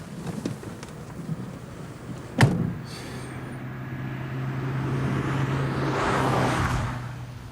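A car slows to a stop amid wind noise, a sharp knock comes from the door, and then a low engine hum and a rising whoosh of air follow, with no voices.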